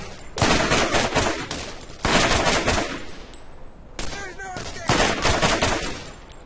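Loud bursts of automatic gunfire from the video game Borderlands come in repeated close volleys with short gaps between them.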